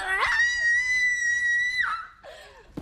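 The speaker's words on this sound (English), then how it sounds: "She screams like you're about to kill her." A woman lets out a long, sustained high-pitched scream lasting nearly two seconds, loud and close, trailing off into a short gasp or whimper at the end.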